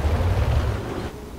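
A cannon shot fires with a heavy, sustained roaring blast that fills the whole moment, loud and rumbling deep before tapering slightly, during a train-set combat game.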